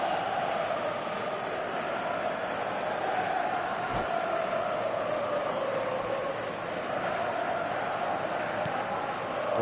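A crowd in an eFootball video game match roars as a steady, loud stadium wash, an unbroken blanket of massed voices with no distinct calls standing out.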